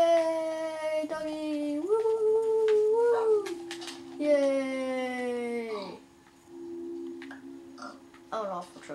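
A tamed wolf in Minecraft lets out a string of high, wavering whimpers and howl-like whines, close and clear, with pitch sliding up and down over several seconds before short yips near the end.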